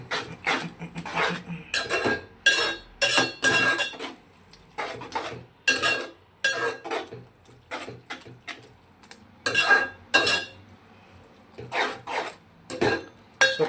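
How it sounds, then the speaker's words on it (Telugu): A spoon stirs sugar into a mixture in a pot, giving repeated scraping and clinking strokes in an irregular rhythm, close and fairly quiet, with no talking. "సో పంచదార వేసినాక ఇది ఇలా కలుపుకోండి అనమాట చక్కగా."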